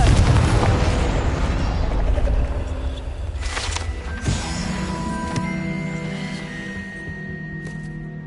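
A Confringo spell explosion in Hogwarts Legacy: a loud, close, rumbling blast at the start that slowly decays into a ringing tail, with a few smaller pops and tonal chimes afterward.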